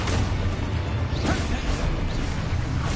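Dense, crashing spell blasts from the Hogwarts Legacy video game hit in a steady, loud barrage of bursts and whooshes that never lets up.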